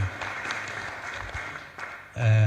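Audience clapping at a political launch event in Kenya, a loose patter of applause filling most of the clip before a voice cuts in loudly near the end.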